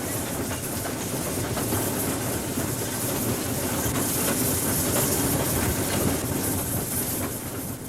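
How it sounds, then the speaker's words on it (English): A narrow-gauge train on the Welshpool & Llanfair Light Railway runs steadily after crossing a viaduct, with continuous loud rumbling, rhythmic wheel clatter and a hiss of steam, and no voices. "after this first viaduct, the train must start to slow down quite a bit."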